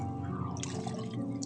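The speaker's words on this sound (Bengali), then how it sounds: "এখানে সামান্য একটু পানি দিব" A small amount of water is poured into a cooking pot of bata fish with tamarind, giving a brief, soft splashing trickle that is close and fairly quiet.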